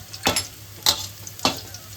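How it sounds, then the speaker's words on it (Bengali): Bitter gourd frying in hot oil sizzles with a constant hiss, and three evenly spaced stirring scrapes ring out close by. "এবার আমি করলাটা ভেজে নিচ্ছি"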